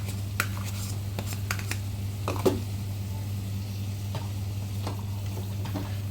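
Garlic and ginger paste frying in a pan for egg biryani: a steady sizzle under a constant low hum, with intermittent stirring scrapes and clicks and one slightly louder knock partway through.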